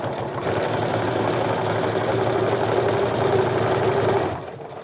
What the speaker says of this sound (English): I'm going to sew right up to that pin